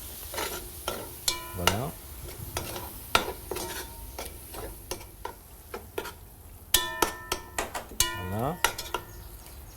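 Stuffing sizzles and fries in a pan as milk is poured in and stirred, with repeated scraping and clinking stirring strokes at an irregular rhythm, close and moderately loud, and a voice briefly speaking.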